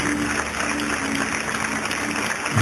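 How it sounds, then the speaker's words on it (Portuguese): A church congregation applauds together during a worship service, a steady, dense wash of clapping that holds at an even level throughout without a clear pause. "Vamos aplaudir mais o Senhor Jesus, igreja."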